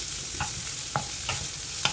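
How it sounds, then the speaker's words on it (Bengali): Steady sizzling of chopped onion frying in a pan over medium flame, with a few soft scraping stirs at regular intervals; no voices. "एक लार्ज साइज का मैंने चॉप्ड ऑनियन डाला है, इसको थोड़ा फ्राई कर लेंगे।"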